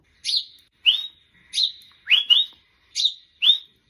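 A person whistles an imitation of a sparrow's call: six short, bright chirping notes in an even, quick rhythm, clear and close with no other sounds.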